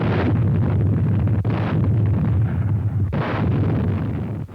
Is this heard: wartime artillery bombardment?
yes